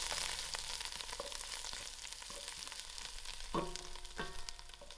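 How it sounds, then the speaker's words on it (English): Curry leaves and green chilies frying in hot oil for a spicy loki dhal, giving a steady close sizzle with a few sharper crackles and light stirring scrapes throughout. "put in my curry leaf and my green chilies."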